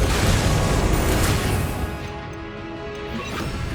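A blasting Confringo spell in Hogwarts Legacy bursts with a loud, broad crash that rumbles and then fades over a few seconds.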